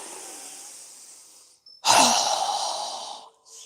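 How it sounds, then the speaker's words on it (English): A deep breath during a yoga breathing exercise: a long, soft airy breath, a short pause, then a strong, loud exhale through the mouth lasting over a second, close and alone. "exhale with a strong breath through our mouth as we lower our arms and hands down"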